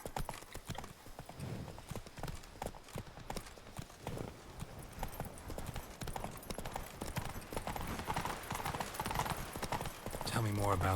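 Roach, Geralt's horse in The Witcher 3, trots steadily with dense clip-clopping hooves under continuous talk and game sounds. A brief whinny comes near the end.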